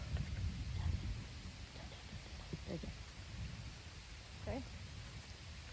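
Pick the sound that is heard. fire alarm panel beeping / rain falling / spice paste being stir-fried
rain falling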